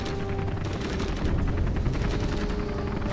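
Sustained, dense rapid gunfire from a gunship in the strategy game Zero Hours, a continuous rattling barrage with heavy low rumble that stays loud and steady without letup.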